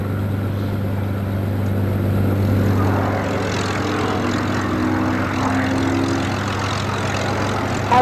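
Spitfire and Hurricane propeller aircraft run their piston engines with a steady, loud, low drone and harmonic hum that holds throughout, with no talk.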